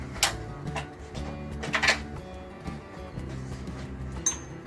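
Screws being backed out of the blade holder on a WEN 6550T 12.5-inch thickness planer with an Allen wrench, heard as a series of small metallic ticks and clinks spread across a few seconds, close and fairly quiet.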